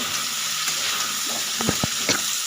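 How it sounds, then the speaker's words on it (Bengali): Salted potatoes frying in a pan make a continuous sizzle, with a few sharp scraping knocks from stirring near the end. No one speaks. "আলুগুলো লাল লাল করে ভেজে"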